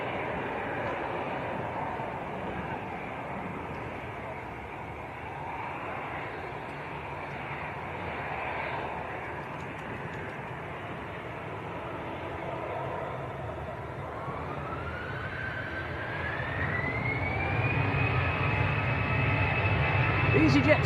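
An EasyJet airliner at Manchester Airport, its engine roar a steady broadband rumble that swells toward the end with a rising whine, heard at a distance beneath ongoing conversation.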